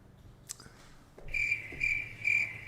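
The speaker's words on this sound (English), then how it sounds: "I got crickets playing right now" Crickets chirping in short repeated bursts, a fairly loud high trill that starts after a faint tick and a brief quiet stretch, with no voices.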